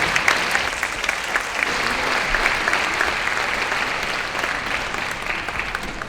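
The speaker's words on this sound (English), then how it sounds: "Give them a round of applause, please." An audience applauds steadily, a dense sustained clatter of many hands clapping at moderate loudness that carries on without pause.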